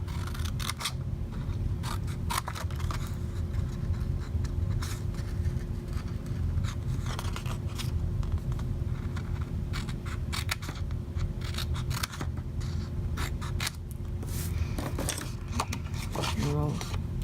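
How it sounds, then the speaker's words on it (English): Scissors snipping paper for a handmade marble-patterned soap box, quick repeated close cuts in uneven bursts over a low steady background hum, with no voices. "I'm going to do the snipping."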